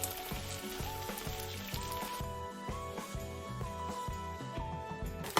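Pan-fried water-fried dumplings sizzle steadily in a pan, a soft continuous hiss mostly buried beneath louder rhythmic background music.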